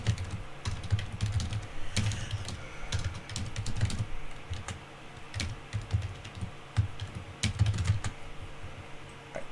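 Steady typing on a computer keyboard while writing code, with rapid close-up key clicks running through the whole stretch and no talking.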